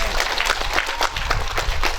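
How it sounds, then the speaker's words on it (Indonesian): An audience at an Islamic preaching gathering claps in a steady burst of applause, dense and close, continuing throughout without pause. "Tepuk tangan."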